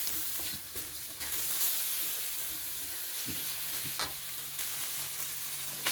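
Pork and lemongrass stir-fry in a wok sizzles steadily after a splash of water goes in, a continuous close frying hiss with faint clinks of stirring.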